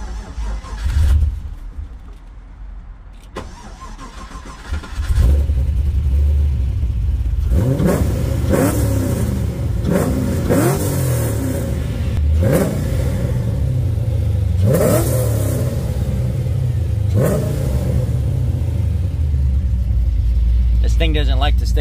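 A 2005 Pontiac GTO engine cranks and fires, then revs repeatedly in loud, close bursts before settling into a steady idle, with someone speaking at times.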